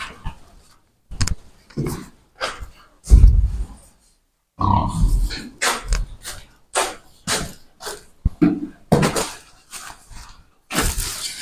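Pigs grunt in a run of short, loud, repeated bursts as they are fed from the floor, with brief pauses between snorts.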